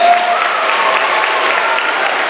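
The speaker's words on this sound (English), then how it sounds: "Let's give them a round of applause." An audience claps for students at an orchestra event, a loud, dense and steady round of applause from many hands, even throughout with no talking.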